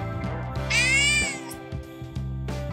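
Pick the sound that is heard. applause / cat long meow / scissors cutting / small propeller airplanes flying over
cat long meow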